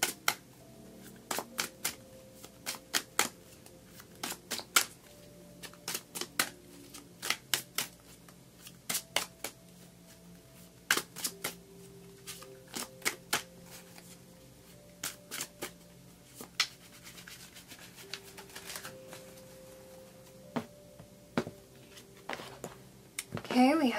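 Tarot cards shuffled by hand for an October reading, a run of crisp riffling snaps and soft slides in uneven bursts, close and moderately loud, with a voice speaking underneath.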